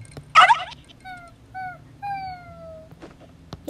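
A dog in a Toca Boca video game gives a short series of high, falling whimpers with small pauses between them, fairly close, after a brief louder yip at the start.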